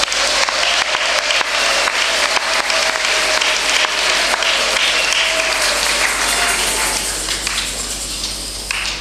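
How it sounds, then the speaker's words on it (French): A congregation applauds strongly at an outdoor Mass installing a new parish priest, a loud, continuous wash of clapping from a large crowd that thins slightly toward the end. "Je vous demande de les applaudir très fort"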